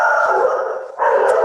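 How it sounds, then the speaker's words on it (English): Dogs barking and howling loudly and close by, one sustained vocal cry that dips briefly before a second bout resumes at full strength, with no speech over it. "Sorry for the noise with the dogs."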